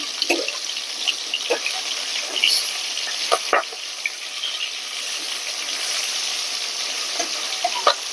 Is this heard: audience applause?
no